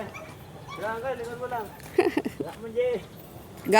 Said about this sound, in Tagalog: eto naman yung aking alagang aso dito, na sunod ng sunod sa akin